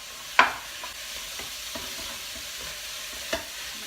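Tomato goes into a pan of spices already frying in hot oil. A sharp splash-like hit opens a continuous close sizzle, with a few soft stirring knocks and another brief hit near the end.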